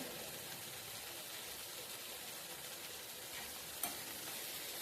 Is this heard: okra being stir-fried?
yes